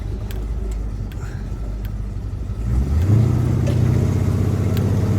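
A car engine idles with a low exhaust rumble through aftermarket mufflers, then revs up briefly into a deeper, smoother growl, close by.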